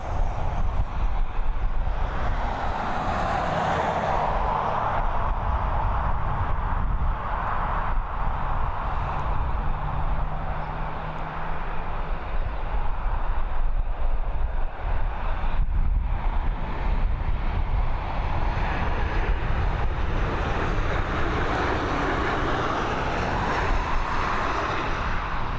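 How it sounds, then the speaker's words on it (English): A Boeing 737 MAX on approach to landing, inbound from Malaga, gives a sustained, fairly loud jet roar that rises and falls gently throughout, with no voices. "It's a Boeing 737 MAX on its approach,"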